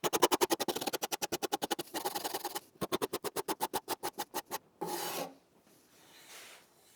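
A Shinto rasp shapes a small facet on a wooden guitar neck by hand, giving a fast, steady run of rhythmic rasping strokes, close and alone, with a brief pause midway and a few slower strokes at the end.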